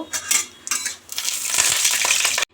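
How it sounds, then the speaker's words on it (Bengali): Lentil dumplings (bori) go into hot oil in a kadai, giving loud close clatters and scrapes followed by a bright, rising sizzle that cuts off abruptly. "এবার বড়িগুলো ভেজে নেব।"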